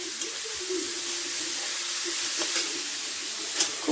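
Spring onion greens fry gently in a pan for momo soup, giving a steady, soft sizzle throughout with a few faint clicks of stirring, no voices.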